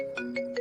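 A phone ringtone plays in three repeating electronic bursts over a steady tone, moderately loud and close, with no talking.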